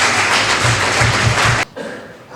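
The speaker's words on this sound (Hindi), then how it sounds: "अब आपकी तालियों की गूंज में तालियां कर दें जी" An audience at an event claps together in a loud, dense burst close by that cuts off abruptly, leaving a quieter room tone.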